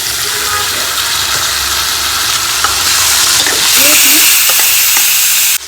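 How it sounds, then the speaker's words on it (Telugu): Boiled drumstick pods frying in oil over a low flame, a steady broad sizzle throughout with occasional stirring clinks and scrapes, growing slightly louder near the end before cutting off. "వీటిని స్లో ఫ్లేమ్లోనే ఈ ఆయిల్ అంతా మునక్కాయలో పట్టే విధంగా వేయించుకోవాలి"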